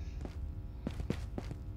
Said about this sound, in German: Ich höre Schritte links.